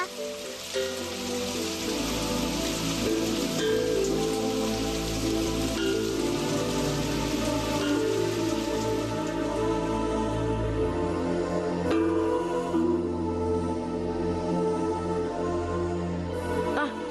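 Steady rainfall patters on surfaces for the whole stretch, a dense, even hiss of drops with no voices over it.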